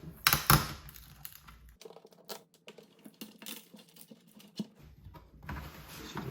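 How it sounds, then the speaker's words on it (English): Tape is peeled off the back panel of an Impiam monitor: a run of crackling rips, ticks and crinkles, close and uneven, with quieter gaps between the pulls. "Just taking the tape off of here."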